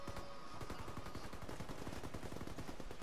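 Rapid gunfire bursts from a Ghost Recon Wildlands firefight, dense and continuous, with repeated shots crackling steadily close up for the whole stretch and no voices over it.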